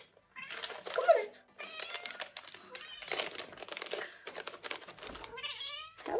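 A cat meows repeatedly for treats in a home, short cries mixed with crinkling packaging and a person speaking softly nearby, all fairly quiet.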